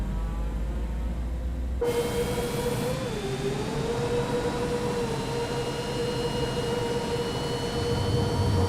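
Citation X jet engines spooling up in MSFS 2024, a loud continuous roar with a rising whine that settles into a steady drone once the start catches, with no one talking.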